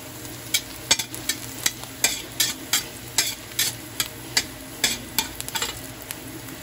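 Meat fries in a pan until brown, a steady sizzle broken by regular scraping stirs, about a dozen sharp strokes close by.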